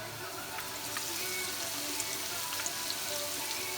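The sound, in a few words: potato pancakes frying in hot oil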